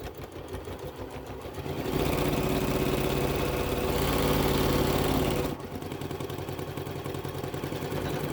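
A sewing machine runs steadily, stitching close to the edge of a fabric face mask, with a louder stretch in the middle between quieter passages of motor hum.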